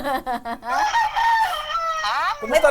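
A fighting rooster crows loudly and close by, a long drawn-out call preceded by short clucks, with a brief voice at the end.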